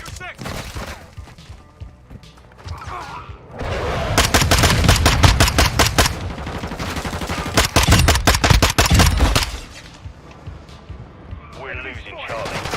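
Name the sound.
MP5 gunfire in Modern Warfare 2 video game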